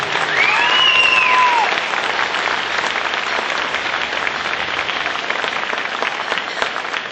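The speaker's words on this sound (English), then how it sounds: "Let's give a good round of applause for our 6th grade class." A room full of people at a school 6th grade showcase claps steadily and loudly, the applause holding for several seconds with a brief whistle near the start.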